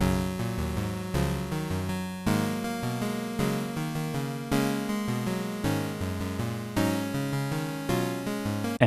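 Three looping tracks playing together through an 8-bit Warps synth with a slow sequence: layered electronic tones in repeating phrases, each swelling with a fresh attack about every second, moderately loud, with no voices.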